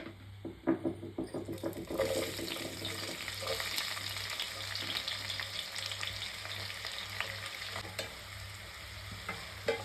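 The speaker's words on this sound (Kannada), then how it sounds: "ಆ್ಯಂಡ್ ಅದು ಆದಮೇಲೆ ತುಪ್ಪ ಬಿಸಿ ಆಗಿದೆ. ಆನಿಯನ್ ನಾವು ಹಾಕಬೇಕು ಇವಾಗ." Onions frying in hot home-made ghee for chicken ghee roast, a steady close sizzle with occasional stirring clinks and scrapes, no talking.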